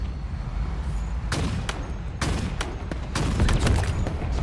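Several sharp sniper rifle shots in Halo Infinite, each a distinct loud crack over a low rumbling game background, spaced irregularly without talk.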